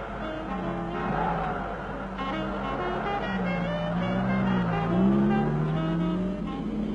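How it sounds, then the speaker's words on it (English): An MG 1100 motor car drives along with a steady, continuous engine and road hum that holds close and fairly even, with a slight swell near the end and no voices. "Snug as she is in this all-weather motor car of tomorrow that's been conceived today."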